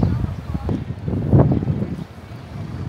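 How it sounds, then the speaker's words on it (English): Gusty outdoor wind buffets the microphone in low, uneven rumbling surges, swelling to a stronger gust midway, with a voice faintly present beneath the noise. "It's windy."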